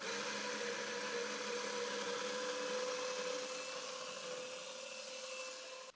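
A coffee grinder grinding home-roasted beans for espresso, a steady loud whirring motor hum that holds for several seconds before cutting off at the end, with no voices.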